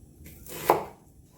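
Single close knife chop through onion onto a board, one soft thud with a brief crunch.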